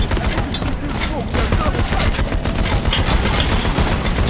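Machine gun fire rattles in the heist shooter Payday: The Heist, a dense, continuous burst of rapid shots filling the whole stretch, with faint voices mixed in.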